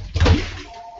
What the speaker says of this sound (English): let me close the studio door.